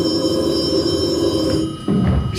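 A telephone bell rings loudly and steadily close by in a stage play, a continuous metallic trill that dips briefly near the end before resuming, with no talk.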